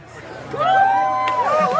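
Crowd chatter and hubbub at an outdoor pawpaw eating contest, a steady babble of many voices that swells after the first half second and holds, with a few tonal calls or whistles rising above it.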